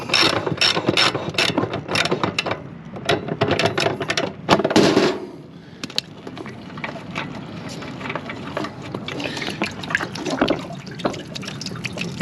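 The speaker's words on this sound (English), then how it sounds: "Let's screw it out." Drain plug on a water tank being unscrewed, with a rapid series of close ratcheting clicks and turns, then a soft trickle and gurgle of residual water running out.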